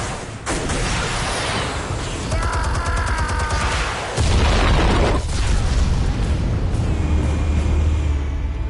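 Explosives detonating in the Batman Telltale Series game: several heavy booming blasts with crackling debris, a big low-end hit near the middle and sustained rumble afterward, loud and close with no talking.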